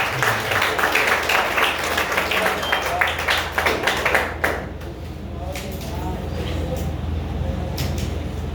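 A church congregation applauds in a dense burst of clapping that fades partway through, leaving softer scattered claps and murmuring voices.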